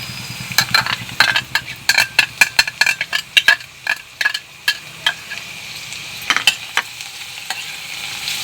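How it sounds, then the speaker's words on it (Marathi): Garlic dropped into hot oil in a pan for methi bhaji, a steady sizzle under a run of sharp scraping and stirring clatters from a utensil against the pan, close and fairly loud. "आता आपले तेल गरम झाले, आपण लसूण घालून घेऊ"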